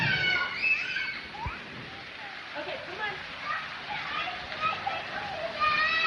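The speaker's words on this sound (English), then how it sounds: "Talk about a good soaking rain." Heavy soaking rain splashes and patters steadily on water and ground at close range, under an adult voice calling to children.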